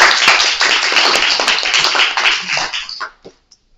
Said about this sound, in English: let's give a good round of applause to our speaker